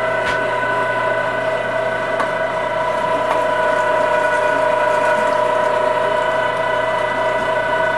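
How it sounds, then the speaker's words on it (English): A small meat grinder works wild hog and deer meat into sausage, giving a steady motor hum with a ratcheting mechanical whir that runs continuously and loud for the whole stretch, with no talking. "It's a small grinder."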